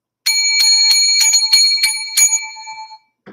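A bell struck about seven times in quick succession, bright ringing strikes close and clear, the last tone fading out in otherwise quiet surroundings.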